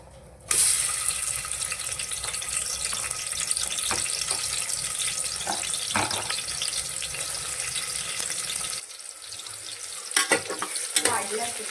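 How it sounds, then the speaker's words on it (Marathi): Onions frying in oil make a steady sizzle, broken by stirring clatters; near the end the sizzle drops and a few sharp clanks follow. "कांदा तळून घेऊया चांगला"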